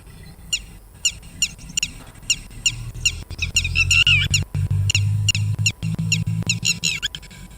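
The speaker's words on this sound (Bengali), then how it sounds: "আমরা আরেকবার দর্শকদের শোনাচ্ছি এই পাখির ডাক।" Recorded call of a red-wattled lapwing played back, a series of sharp, repeated high-pitched calls in regular bursts, loud and close over a low background hum.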